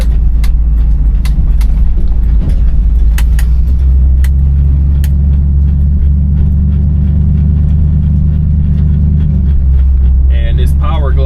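A 1960 Chevrolet Impala with a Powerglide automatic transmission cruises through city streets, its engine a steady low rumble throughout with faint road noise and a few light clicks, and a brief higher mechanical whine near the end.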